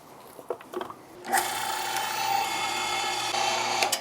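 A meat grinder fitted with a 5mm die grinds beef for smashburgers: after a few soft clicks, a steady, close motor whine and grinding churn start and run without a break.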